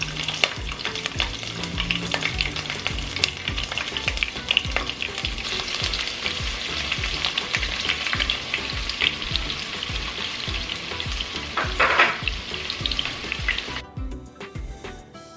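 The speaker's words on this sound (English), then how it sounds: "You're going to let that cook a little bit as well, and then you're going to be adding your onions." Onions and serrano chili peppers frying in a pan, a dense, steady sizzle with crackling pops and stirring scrapes that stops abruptly near the end.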